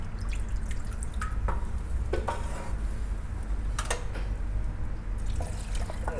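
Kitchen washing up after cooking short ribs: soft drips and trickling water over a steady background hiss, with a few light clinks of dishes and utensils, no talking.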